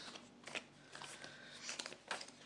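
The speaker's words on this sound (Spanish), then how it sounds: "así voy a tener que barajar otra vez" Deck of cards being shuffled up close: quiet, papery riffles and soft flicks in several short bursts, with no talking.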